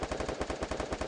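Rapid burst of automatic gunfire in a video game, about a dozen evenly spaced shots in quick succession, moderately loud with no voices.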